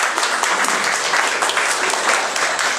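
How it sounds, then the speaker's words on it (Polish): Steady audience applause in a small chamber hall at an exhibition opening for two artists, continuous dense clapping at even loudness throughout. "prosimy jeszcze raz o brawa dla obydwu państw"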